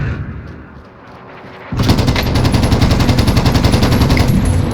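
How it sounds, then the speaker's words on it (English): Cluster bomb strike in a video game, the air support call on an enemy helicopter landing as a sudden loud burst at about 1.7 seconds that swells into a sustained crackling, rumbling barrage of many rapid blasts. "I'm gonna drop a cluster on it"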